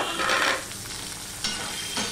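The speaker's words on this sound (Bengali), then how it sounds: "এটা আমি ভালো করে আবার মিশিয়ে কষিয়ে নেব" Potato, onion, ginger paste and tomato are stirred and fried in a pan for a kakrol dish. A spoon scrapes and shuffles through the food in a few loud strokes over a steady sizzle, with no voices.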